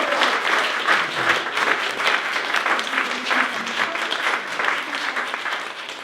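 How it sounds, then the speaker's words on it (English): An awards-ceremony audience at a young people's awards event gives a steady round of applause, many hands clapping in a sustained, moderately loud wash that holds evenly from start to finish. "And can I have a round of applause for Flash, who's lurking at the back?"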